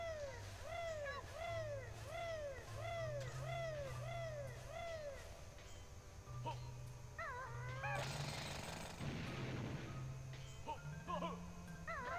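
Bill Drill move in the video game Banjo-Tooie gives a rapid, rhythmic mechanical drilling that repeats steadily, with a person talking over it throughout.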